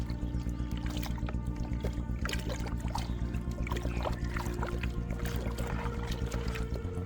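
Water pours steadily into a bucket for a garden tomato mix, a continuous close trickle and splash with a faint background hum.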